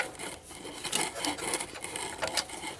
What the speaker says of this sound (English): now I've got a ratchet on the ground wire, and I'm going to undo that with a